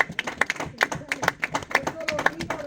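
A church congregation claps during a Spanish-language Bible study, sharp irregular hand claps scattered across the room with voices talking and calling out over them.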